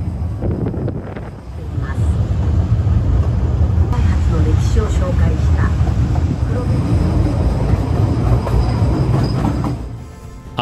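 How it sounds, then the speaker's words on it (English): A train on the Kurobe Gorge Railway rumbles past close by for several seconds. It is loud and continuous with clattering wheels and a faint squeal, then fades. Voices can be heard beneath it. "After waiting for this train to pass"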